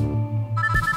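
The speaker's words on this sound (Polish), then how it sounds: "Telefon." A short burst of telephone ringing, an electronic tonal ring that shifts pitch partway through, close and fairly loud.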